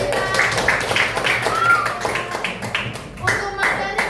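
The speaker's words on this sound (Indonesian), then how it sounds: "Tepuk tangan dulu untuk kita." A class of children claps hands together in a primary-school lesson on the human skeletal and motor system, the close, steady clapping mixed with children's voices talking over it.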